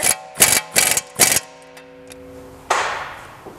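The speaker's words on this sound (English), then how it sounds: "Now we're going to tighten our pinch bolt, and 18 millimeter" Metal clinks and ratcheting taps ring out as an 18 mm pinch bolt is tightened on VW MK7 GTI coilover suspension, four quick bursts followed by quieter ringing and a final louder clank, with no talk.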